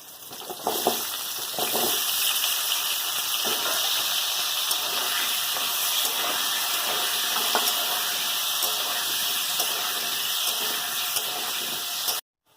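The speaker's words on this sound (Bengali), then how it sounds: "যে তেলটা রয়ে গেছে ওই তেলের মধ্যে আলুগুলো ভেজে নেব" Potatoes frying in oil left over from frying pointed gourd give off a steady, close, hissing sizzle that runs unbroken for about twelve seconds, with a few light clatters early on, then cuts off abruptly.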